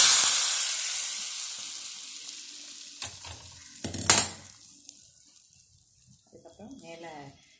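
Dried red chili and asafoetida tempering in hot oil, a bright sizzle that flares strongly at first and then fades, with a few sharp clinks and bursts of crackle, and a voice speaking briefly near the end.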